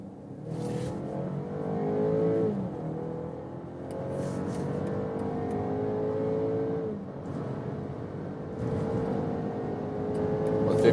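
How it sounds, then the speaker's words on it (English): Car in sport mode with S shifting accelerating hard at high speed on the German Autobahn, a steady engine drone rising in pitch through the gears with brief shift dips, heard from inside the cabin. "I'm driving at high speed on the German Autobahn. Sport mode and S shifting mode from 50 kilometers an hour."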